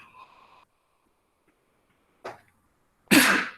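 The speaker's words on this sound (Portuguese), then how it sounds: "Espirrei certo agora." A single loud, sharp sneeze bursts out near the end, close and forceful, after a brief earlier vocal sound and a short quieter exhalation in an otherwise quiet room.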